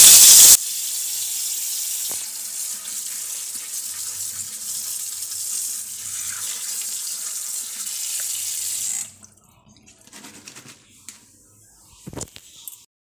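Tap water runs steadily into a sink as cut potatoes and pointed gourd are washed, a loud continuous splash that stops suddenly, followed by quieter handling and clatter nearby.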